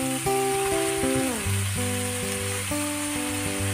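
Green peas and crushed potatoes sizzle and fry steadily in spices in a pan, a loud continuous crackle and hiss that runs throughout with no voices.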